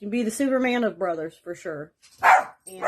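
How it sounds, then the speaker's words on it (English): A person talks, and then a dog barks sharply once or twice nearby, loud and brief, breaking in at the end of the speech. "Sorry about the dog."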